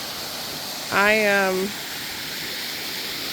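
Steady, full rushing of the waterfall at Ashmore Heritage Preserve, continuous broadband water noise nearby, with a brief spoken word cutting in over it.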